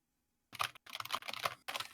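Brisk typing on a computer keyboard comes in dense, close, clattering bursts with short pauses between them, and no voices are heard.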